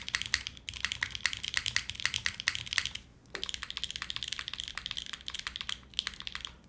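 Typing on a Kohaku Korn mechanical keyboard with a POM plate, a quick run of crisp clacking keystrokes with one brief pause, close and alone.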